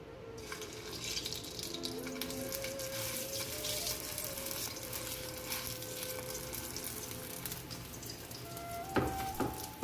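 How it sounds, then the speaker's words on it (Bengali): A chop frying in a small amount of oil gives a continuous close hiss and sizzle that holds steady, with a brief clatter and rattle near the end; no voices. "তো আমি কিন্তু অল্প তেলে ভাজবো, একদম ডোবা তেলে কিন্তু ভাজবো না ওই চপটা।"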